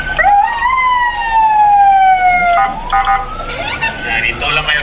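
An emergency vehicle siren wails at a toll gate, a loud rising-and-falling tone sweeping up then sliding down over several seconds, with busy road noise and traffic behind it.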